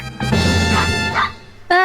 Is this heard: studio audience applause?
no